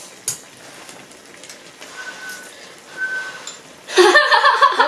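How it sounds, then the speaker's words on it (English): A couple of brief, thin whistling tones from blowing on hot hotpot food sound faintly over quiet background, followed by a louder burst of breathy, whistly noise near the end. "I'm blowing, but it's whistling for some reason."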